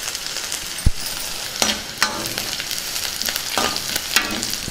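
Onion pieces sizzle with curry leaves in hot oil, a constant close crackling hiss broken by several sharp spatula scrapes and taps against the pan.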